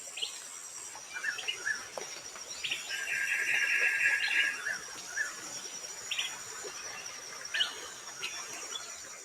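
Birds sing and chirp in short bursts over a steady background of insect trilling, with one longer warbling phrase in the middle.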